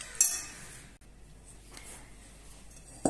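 A utensil clinks against a bowl while quiche ingredients are mixed, a faint metallic tap at the start and another at the end, with quiet in between.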